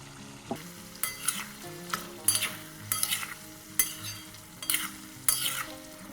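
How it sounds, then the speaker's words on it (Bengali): Fried potatoes are sautéed with chicken for chicken posto, with a soft sizzle under repeated rhythmic scrapes of a spoon against the pan, about one stroke per second, close and moderately loud. "এবারে ভেজে রাখা আলুটা দিয়ে একটু কষে নেব"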